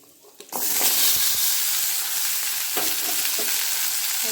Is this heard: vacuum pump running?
no